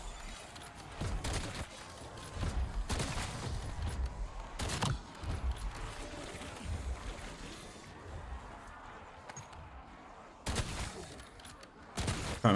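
Sniper rifle fire in Black Ops 7 Zombies, a handful of loud sharp shots spaced several seconds apart over busy game noise and rumble.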